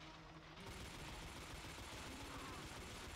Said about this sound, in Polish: Karabin raz strzela szybko, raz wolno, to też jest dziwne.